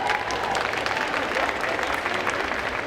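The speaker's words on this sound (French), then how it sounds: "On l'applaudit très fort." An audience at a convention cosplay contest applauds, a dense patter of many hands clapping steadily at moderate distance for a few seconds.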